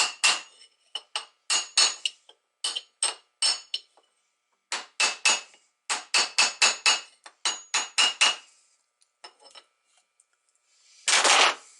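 Quick bursts of sharp metallic hammer taps on a bearing sleeve of a Grasshopper mower deck spindle, struck in rapid clusters with short pauses between, close and ringing, ending with a longer scraping rasp.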